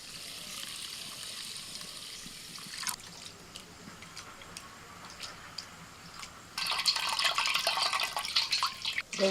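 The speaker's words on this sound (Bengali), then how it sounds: "গোবিন্দভোগ চালটা ধুচ্ছে আর সেন্ট উঠে গেছে।" Gobindobhog rice is washed in water, giving a steady trickle and light sloshing that turns louder and splashier partway through, close by with no talk.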